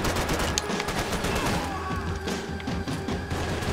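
Rapid gunfire from the video game Max Payne 3, dense overlapping shots and bursts with thuds and impacts, loud and continuous across the whole stretch.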